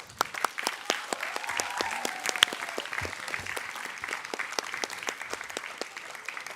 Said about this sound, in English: And a round of applause for everybody.